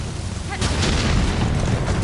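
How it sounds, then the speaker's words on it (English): A bomb blast in the Hollow Knight video game gives a sudden booming burst that holds as a dense, loud rumble to the end, with faint voices mixed in. "Everybody loves bombs."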